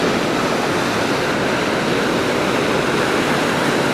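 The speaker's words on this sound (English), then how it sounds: "We've got this rather spectacular waterfall." A spectacular waterfall in the Lake District roars as a loud, unbroken rush of falling water that stays constant and close the whole time, with no talking.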